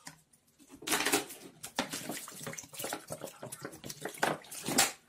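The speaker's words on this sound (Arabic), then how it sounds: "راح أضيف لتر مي بارد،" Splashing of a litre of cold water being poured into a container while making a tamarind drink, a broadband gush that comes in uneven surges over about four seconds, close and fairly loud.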